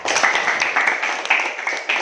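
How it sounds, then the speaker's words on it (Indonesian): A short burst of dense clapping from a group, steady and close, lasting a couple of seconds. "tepuk tangan untuk Widya."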